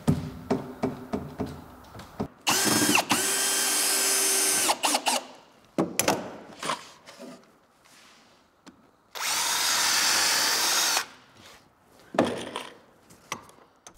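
Power drill driving screws through boards into a sauna wagon frame, two long steady whirring bursts with short clicks and taps between, close and loud with no talk.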